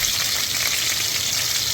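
Ginger beef sizzles and fries steadily in a regular pan on a home stovetop, a dense, even hiss of hot oil that runs unbroken and fairly loud throughout.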